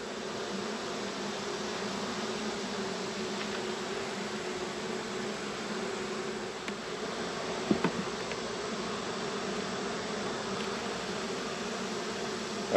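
Bees from an open beehive during an inspection of brood and pollen-carrying workers, a dense, steady buzzing drone that holds for the whole stretch, close and continuous with a few faint clicks.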